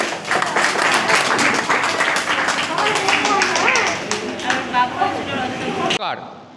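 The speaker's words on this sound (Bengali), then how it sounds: "জোরে হাততালি, হিরো।" An audience clapping loudly, a dense burst of hands that holds strong for several seconds, then stops sharply near the end.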